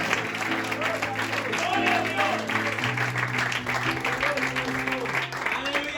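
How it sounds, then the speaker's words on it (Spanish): Church congregation clapping for the Lord during a sermon, steady continuous applause with voices and sustained tones underneath throughout. "Denle fuerte esas palmas al Señor"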